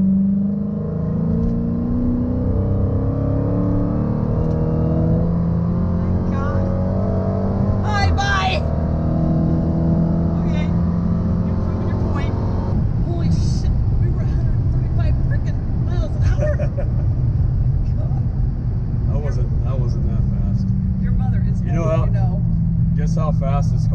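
A Dodge Challenger Hellcat accelerates hard on a ride along, its engine a loud, deep rising roar inside the cabin that builds and then drops to a heavy rumble, with people talking over it.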